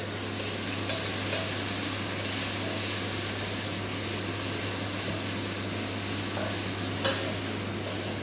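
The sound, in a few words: tuna frying in a pan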